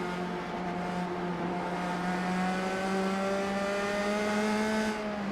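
A USF 2000 open-wheel race car engine in iRacing at Lime Rock Park howls steadily at high revs down the main straight, its loud sustained drone rising slightly in pitch, alone with no talk.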